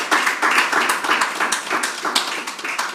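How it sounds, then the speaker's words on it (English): Audience applause inside a church chapel during a service, a dense, steady wash of many hands clapping close by with rhythmic bursts throughout, no voices over it. "Please, if you are clapping, clap well."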